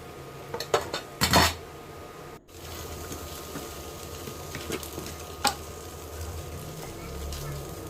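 Gram flour mixture for pudalangai puttu being stirred in a pan, with loud metal clatter of the spoon against the pan early on, then quieter scraping strokes and occasional knocks under a steady background hiss.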